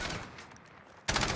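A short, loud burst of gunfire from a shooter video game hits suddenly after a moment of quieter, muffled shooting.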